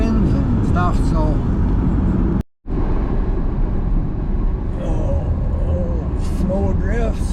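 A car drives slowly over black ice during an ice storm, with a steady, loud broadband road and engine rumble that drops out briefly once before resuming, and muffled voices faintly underneath.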